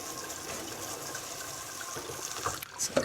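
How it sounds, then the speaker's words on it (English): Cold tap water running over fish in a kitchen, a soft steady gushing stream with a few splashy spatters near the end, faint and close with no talk. "just run some cold water over it"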